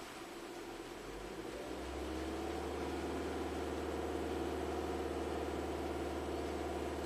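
Ford EcoBoost engine with a P0012 VVT fault rising from idle to a raised, steady RPM, a low continuous hum with broadband hiss, moderately quiet and without talk.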